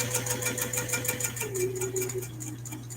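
Sewing machine stitching fabric for a lanyard ID holder: a close, steady rapid mechanical whir with regular needle clatter, easing into slower, quieter running near the end.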